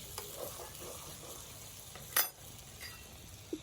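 Spicy capsicum chicken being stirred in an oily pan gives a soft continuous sizzle with gentle scraping of a spoon and one sharp metallic clink, close and fairly quiet.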